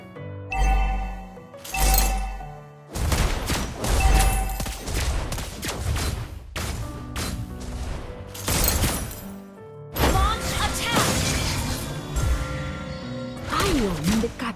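Sniper gunshots from the hero Lesley in the mobile game Mobile Legends fire in loud, sharp bursts with glassy, shattering impacts, repeating at irregular intervals amid dense game effects.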